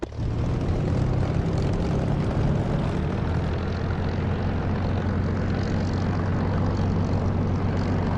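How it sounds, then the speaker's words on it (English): Steady droning aircraft engine during takeoff in the DCS flight simulator, a loud continuous propeller-like hum holding constant with no voices over it. "I'm going to move centre runway and take off to have a go at the convoy."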